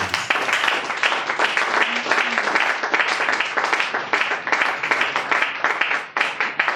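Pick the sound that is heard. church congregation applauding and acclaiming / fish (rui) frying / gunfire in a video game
church congregation applauding and acclaiming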